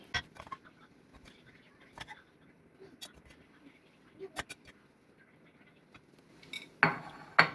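Egg rice being scooped from a pan into a serving bowl, sparse clinks and scrapes of a spoon against cookware spread over quiet pauses, ending in a louder clatter and rustle, close with no talk.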